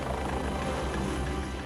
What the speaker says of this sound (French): L'hélicoptère se pose directement dans la ferme.